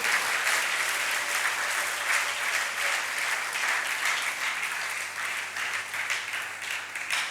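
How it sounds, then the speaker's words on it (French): A church congregation at a French-language service applauds steadily for several seconds, a dense, sustained wash of clapping with no voices on top. "Pouvons-nous applaudir pour la parole de Dieu?"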